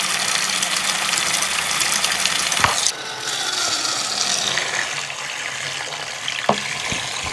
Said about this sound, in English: now the fan starts to struggle